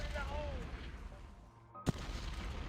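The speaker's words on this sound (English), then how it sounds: "We're going to use the missile launchers as well." Missile launchers firing in the strategy game Shadow Empire, a rumbling barrage of launches with one sharp burst near the end, layered over steady game background noise.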